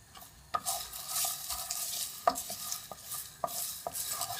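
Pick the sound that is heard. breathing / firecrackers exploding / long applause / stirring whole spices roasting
stirring whole spices roasting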